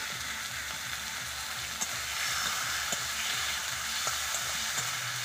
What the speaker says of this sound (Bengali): আমি এবার মশলাটা ভালো করে কষে নিব।